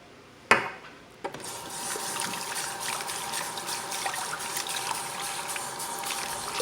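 Water runs from a tap while a shaving bowl is washed, a steady trickle and splash following a sharp knock or two at the start as the bowl is handled.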